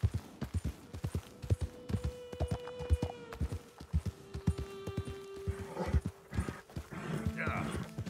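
Rhythmic horse hooves clip-clop steadily on a hard surface in the video game Red Dead Redemption 2, joined by a whinny and tonal game sounds, with a dog bark and brief voices near the end.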